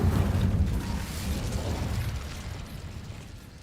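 An Incendio fire spell cast in a video game, a loud roaring whoosh of flame that bursts at once and then slowly fades over a few seconds.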